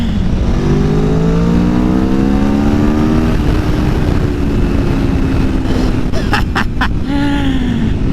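A 2019 Aprilia Tuono Factory motorcycle engine revs up under throttle, pitch climbing steadily, then drops and rises again in quick bursts with a crackling note, loud and close.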